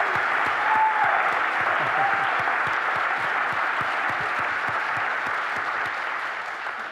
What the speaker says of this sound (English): another big round of applause for Christo